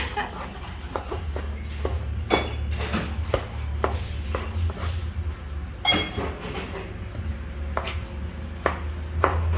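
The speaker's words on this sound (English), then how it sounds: "Now we're chopping the Ackee" Raw ackee is chopped with a knife on a board, giving irregular sharp taps and thuds spread through the clip over a low, steady background hum.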